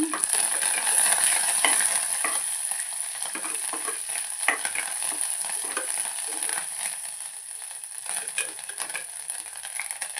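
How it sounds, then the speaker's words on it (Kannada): Sliced onions and curry leaves sizzle and fry in an oil-filled pan for a sprouted-bean sambar, a steady crackling hiss broken by occasional scraping stirs. "ಉಳ್ಳಾಗಡ್ಡಿ ಚಂದ ಫ್ರೈ ಆಗಿದೆಯಲ್ಲ ಕರಿಬೇವು ನಾನು ಕರಿಬೇವು ಸ್ವಲ್ಪ ಜಾಸ್ತಿ ಹಾಕ್ಕೊಳ್ತೀನಿ"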